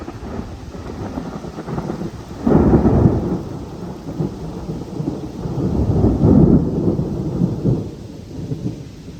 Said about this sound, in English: that was thunder in the background